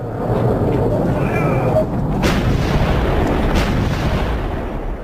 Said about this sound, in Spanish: sonaron los primeros disparos de la batalla de Kasserine